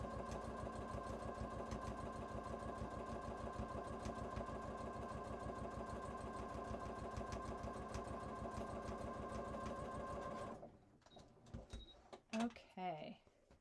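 A sewing machine top stitches a cross body bag, its needle chattering in a fast, even rhythm close by for about ten seconds before stopping, followed by a few soft handling clicks and rustles.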